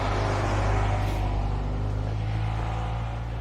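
Mail truck rumbling past in the background, a steady low engine drone that holds evenly throughout with no voices over it.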